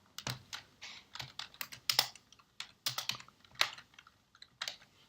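Close, quiet typing on a computer keyboard during a coding workshop, with irregular bursts of clicking keystrokes and short pauses and no talking.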